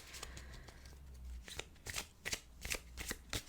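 Tarot cards shuffled by hand during a reading, a quick series of crisp riffling snaps and papery flutters, close and fairly loud, with no talk over them.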